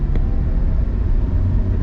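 A taxi car heading out from Lombok airport toward Mataram rolls along with a steady, loud interior engine and road rumble, continuous and close throughout.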